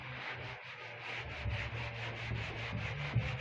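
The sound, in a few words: rubbing out writing on a board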